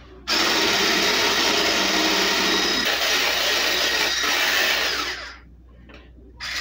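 An electric mixer whirs loudly and steadily as it blends a chicken and veggie mac dish, running at a constant high whine for about five seconds, then cutting off and briefly starting again.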